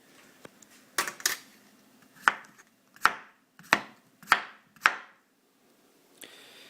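Knife chopping raw vegetables for sausage and cabbage on a cutting board: a few separate close, sharp cuts, then a steady run of five evenly spaced chops, with no talking.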